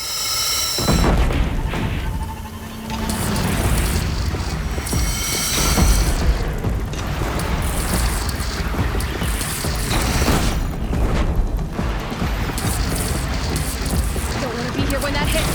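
Heavy cannon fire booms during a battle at the Spire in Horizon Zero Dawn Remastered, deep loud blasts over a dense, continuous roar of combat, with voices calling out between impacts.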